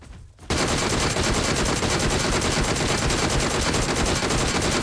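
A DP gun fires in the BGMI mobile game, a loud, dense and unbroken stream of automatic gunfire that starts suddenly after a short lull and runs steadily to the end, with no talking.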